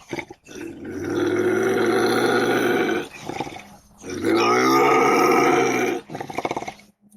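A North American porcupine gives loud, guttural groaning vocalizations in two long drawn-out bursts, each a few seconds long, with shorter grunts at the end and no other sounds around them.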